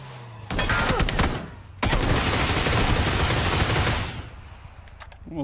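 Gunfire in the video game PUBG: loud, close automatic bursts that rattle on for several seconds, break briefly and resume, then cut off.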